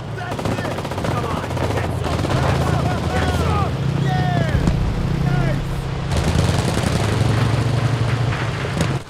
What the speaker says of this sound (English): I can hear the MGs.